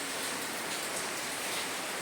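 Rain falling steadily outside, a dense even hiss of drops on surfaces that holds at a constant level, with no voices.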